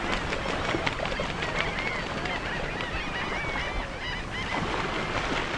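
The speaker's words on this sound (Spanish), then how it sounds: "Al atardecer, grandes bandos de aves mueven la quietud reinante en la periferia" Large flocks of water birds at dusk on the edge of Cuban mangroves, a dense continuous chorus of honking and chattering calls layered over steady background wash, with no break in the din.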